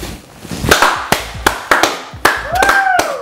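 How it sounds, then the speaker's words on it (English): A small group claps in short bursts after a nursery rhyme: a few sharp scattered claps spaced apart, then a brief flurry of hand claps near the end, with faint voices in the background. "I'm expecting applause after that"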